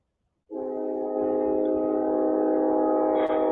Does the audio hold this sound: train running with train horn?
yes